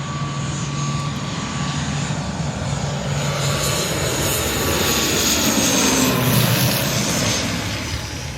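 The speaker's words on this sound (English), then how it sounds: "So here's a plane just about to come in." A plane coming in to land on Con Dao island in Vietnam produces a loud, continuous engine roar that swells slightly as it draws nearer, with no talk over it.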